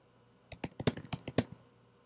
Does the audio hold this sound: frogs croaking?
no